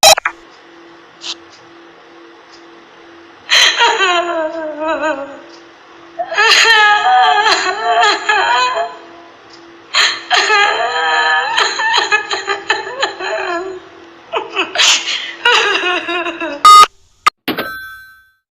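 A spooky demon crying sound effect: wailing, whimpering, sobbing cries in several drawn-out bursts, close and loud over a faint steady hum, ending in brief sharp clicks.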